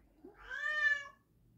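A single drawn-out cat meow, rising then falling, close and clear, in a quiet room.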